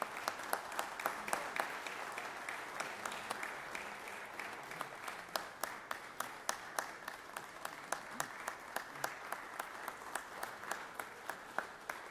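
Applause in the Georgia Senate chamber as a high school football team is honored from the gallery, a long steady round of many people clapping, bright and even, fading slightly toward the end.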